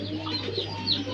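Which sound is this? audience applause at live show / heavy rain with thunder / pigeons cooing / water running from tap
pigeons cooing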